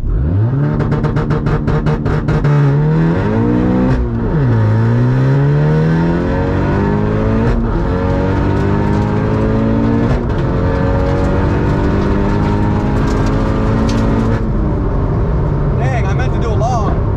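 A tuned VW Golf R MK7 accelerating hard with its wheels spinning, a loud close engine revving up through several gears with rising and falling pitch sweeps, people talking over it inside the car.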